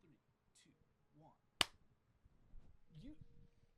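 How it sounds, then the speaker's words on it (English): A single quick, sharp hand clap snaps out once, near and crisp, with quiet talk and murmuring before and after it. "Quick clap."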